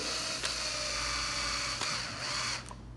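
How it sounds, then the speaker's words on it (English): A power screwdriver drives screws into a Plasti Dip spray gun, a steady loud whirring motor with slight pitch shifts, close up, cutting off near the end. "So now, our next step would be to put our screws inside. Take your screwdriver."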